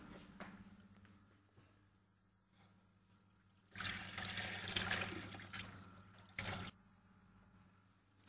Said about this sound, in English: And I'm going to drain these veggies.